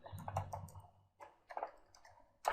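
Typing on a computer keyboard comes as a few short bursts of close, distinct key clicks separated by brief pauses, with no talking.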